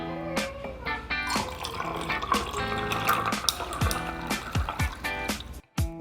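Melted bacon grease is poured into a jar of bourbon for fat washing, a busy liquid trickle and glugging spread across several seconds, close up, with clinks of glass and some handling noise.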